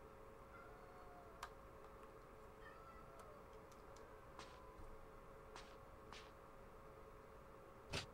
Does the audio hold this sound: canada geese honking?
no